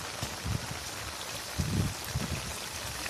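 Rain falling on a solar panel outdoors, a dense continuous patter and hiss of drops with a few heavier splashing bursts, fairly close and loud, with no voices.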